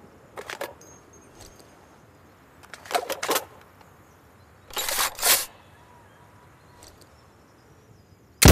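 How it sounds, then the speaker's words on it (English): Weapon reloading in Insurgency: Sandstorm comes as a few separate bursts of crisp metallic clicks and clacks, handled close up over a quiet background: a short double click, a rattling cluster, then a louder snap pair, with no talking. "Watch me I'm reloading"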